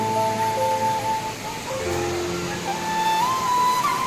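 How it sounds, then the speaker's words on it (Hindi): Mangala Dhara waterfall near Tentulikhunti in Nabarangpur, Odisha, gives a steady, full rushing roar throughout, with faint tonal sounds drifting over the continuous water noise. "बहुत बढ़िया वाटरफॉल है।"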